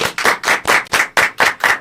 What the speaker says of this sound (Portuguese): Eu queria, por favor, uma salva de palmas para os nossos convidados.